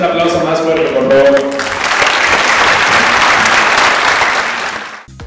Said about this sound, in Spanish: Un aplauso más fuerte, por favor.